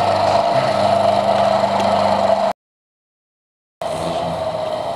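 A three-phase electric motor runs with a loud, steady mechanical hum. The sound cuts out for about a second, then starts again at the same level.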